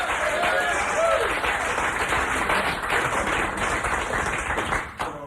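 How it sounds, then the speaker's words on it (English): Audience applause at a live radio-studio performance by a rock band, greeting the bass player: steady, dense clapping from a crowd throughout, with some voices mixed in, tapering slightly at the end. "you can give him a round of applause here"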